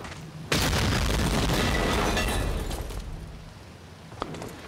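Cannon blown up in the Medal of Honor video game, a sudden loud boom that rolls into a long rumbling, debris-filled decay, followed by a faint pop.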